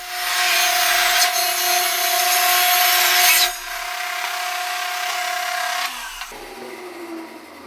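A saw cuts wooden boards apart for a workbench build, making a loud, continuous rasping whine that runs for several seconds close up, eases partway through and then dies down.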